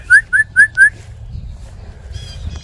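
A person whistles four short, rising calls in quick succession to summon cattle on a farm, then outdoor ambience with faint rustling follows.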